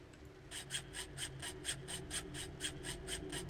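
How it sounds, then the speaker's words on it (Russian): Steady back-and-forth rasping of a hacksaw cutting through a door chain in a video game, about a dozen even strokes at a regular rhythm, faint with a low hum beneath. "Пила должна срезать цепочку на двери в комнату уборщика."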